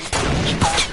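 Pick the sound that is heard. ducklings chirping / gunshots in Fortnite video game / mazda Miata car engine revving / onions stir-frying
gunshots in Fortnite video game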